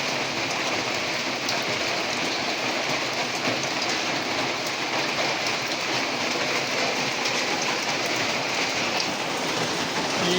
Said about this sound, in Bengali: বাদলা শুরু হয়ে গেছে বৃষ্টি বাদলের দিন আসে